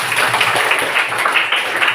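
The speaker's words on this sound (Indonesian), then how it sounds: "Tepuk tangan untuk John" A primary classroom of students gives a short, steady burst of clapping during a maths lesson on circle circumference. The patter is dense and even, with no voices over it.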